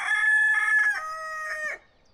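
A rooster crows once, close and loud, a drawn-out call of almost two seconds that then cuts to near silence.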